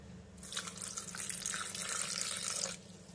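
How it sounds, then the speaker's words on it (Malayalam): Tender coconut water is poured into a blender jar for a milkshake, a steady trickling splash that lasts about two seconds before it stops. "നമുക്ക് ഇതിലേക്ക് കുറച്ച് കരിക്കിൻ വെള്ളം ആഡ് ചെയ്യാം."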